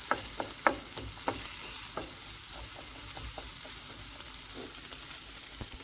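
Garlic, onions, sweet pepper and a store-bought sauce fry in a pot with a continuous sizzle. A spoon stirs through them and makes light, irregular clicks against the pot.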